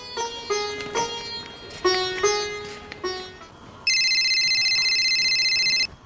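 Phone ringtone playing a melodic tune, then switching to a loud steady electronic ring that holds for about two seconds, close by in a quiet room.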